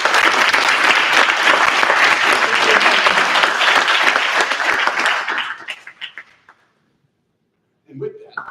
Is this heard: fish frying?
no